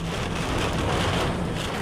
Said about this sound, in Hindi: तेज बारिश और तूफानी हवाओं के साथ ये और ज्यादा भयंकर रूप लेता नजर आया